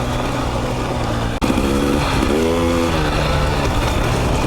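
A 2020 KTM 300 XC two-stroke dirt bike runs steadily while being ridden, its engine drone continuous and close, with a brief cut near the middle and rising and falling revs afterward; no one talks.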